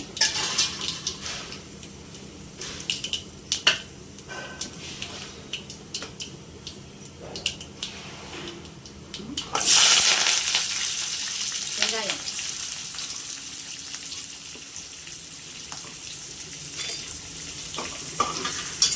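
Fenugreek and cumin seeds frying in oil in a pan, with a soft steady sizzle and occasional stirring clinks that surge into a louder, brighter sizzle midway, carrying on continuously without voices.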